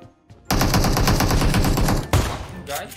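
Shotgun gunfire in PUBG Mobile, heard as a dense, loud sustained blast of shooting lasting under two seconds, then a second sharp burst, with almost no talking.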